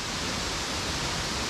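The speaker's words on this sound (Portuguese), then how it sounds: "E tá chovendo, gente" Rain falls in the Tijuca Forest as a dense, even hiss of steady broadband noise, close and continuous, with no voices.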